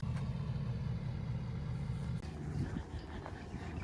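A single car passes on a quiet road beside a Texas state park at night, a faint, distant low engine rumble that swells slightly and fades.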